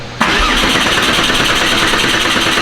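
Porsche 964 engine starting up: after a brief quiet moment it fires and settles into a loud, steady close-up running roar that holds to the end, with no voices.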